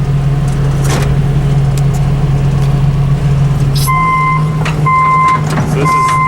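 An excavator's engine drones loudly and steadily as the machine drives, with a string of sharp, evenly spaced reversing beeps sounding through the second half.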